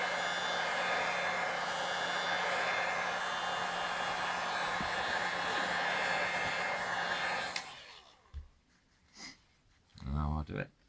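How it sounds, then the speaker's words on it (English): A hot air tool blows a steady, loud roar across a Nokia Lumia 625 to warm the screen adhesive during a glass digitizer repair, then cuts off abruptly, leaving quiet handling noises and a brief voice. "is we give it a quick whisk of heat"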